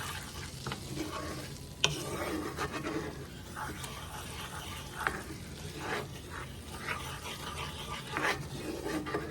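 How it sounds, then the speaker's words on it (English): Chopped onion cooks in a hot pan with a tablespoon of fat, a steady sizzle broken by repeated scraping stirs of a spoon against the pan, close and alone with no voices. "I'm going to let that cook and mix in there a little bit"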